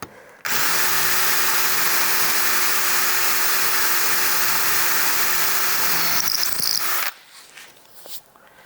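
A Star M bamboo drill bit spins in a power drill with a loud, high, whining drone held steady for about six seconds before cutting off abruptly, leaving quiet handling noise.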